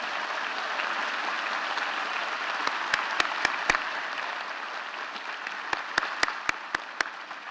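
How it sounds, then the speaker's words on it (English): An audience in a hall applauds at a university State of the University address, a steady even wash of clapping with a few sharper individual claps standing out near the microphone. "Let's give them a round of applause."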